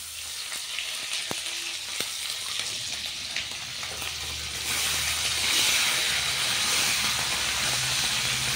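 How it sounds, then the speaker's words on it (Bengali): Fried potato pieces sizzle loudly in a pan with spices, making a constant close hiss with scattered pops. Partway through, the frying swells into a louder, fuller roar and stays at that level. "আলুটা ভাজা হয়ে গেছে, এর মধ্যেই মশলাটা দিয়ে দেবো"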